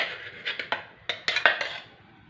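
Ground mango pulp being scraped and tipped into a metal pan for jam, with a series of clinking knocks of a utensil against the pan, close and uneven, tapering off at the end.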